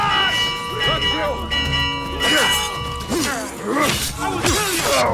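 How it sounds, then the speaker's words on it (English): A bell clangs repeatedly in the game Assassin's Creed Mirage, its ringing tones layered over combat clashes, impacts and shouting voices. "Going to ring the bell!"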